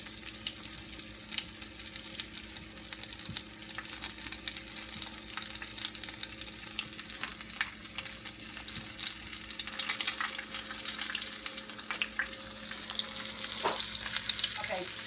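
Chicken pieces for a homemade Popeyes-style sandwich fry in hot oil with a continuous, dense crackling sizzle and scattered pops, holding steady throughout with no talking.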